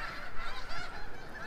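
Geese honk repeatedly in a park near a skate area, a steady series of nasal calls close by with no talking over them.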